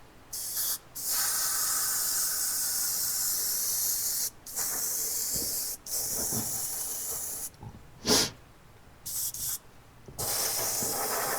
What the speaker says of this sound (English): Would you stop clogging up frickin' airbrush?